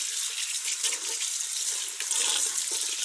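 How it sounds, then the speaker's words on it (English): Tap water runs steadily over a makeup brush being rinsed at a sink, a continuous close hiss and splash with no voices. "you rinse it."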